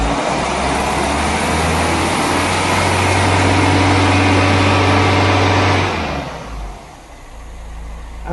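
A Ford Pinto engine, being set up with a Crypton tune, runs steadily at a raised, even rev for several seconds before dropping back toward idle, heard close and loud with no talk.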